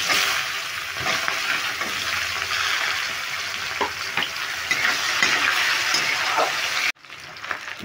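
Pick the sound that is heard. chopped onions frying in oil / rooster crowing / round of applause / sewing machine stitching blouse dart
chopped onions frying in oil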